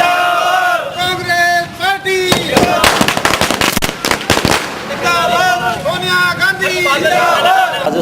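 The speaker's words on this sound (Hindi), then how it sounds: "पटाखेबाजी की" Firecrackers set off at a political victory celebration crackle in a dense burst of sharp pops mid-clip, amid a noisy crowd with voices chattering and shouting throughout.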